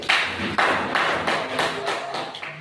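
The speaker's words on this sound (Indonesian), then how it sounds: "Oke, tepuk tangan dulu dong kelompok 1." A group in a teacher-training classroom session claps together in a loud, rhythmic pattern, with about six sharp clap bursts arriving roughly every half second and no voices.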